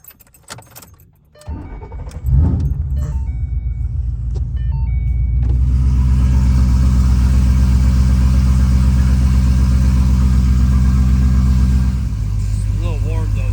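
Engine fitted with Boss Racing cams and heads cranks over with a short starter burst, then settles into a loud, steady deep-throated idle with a lumpy low rumble, keys jangling early on.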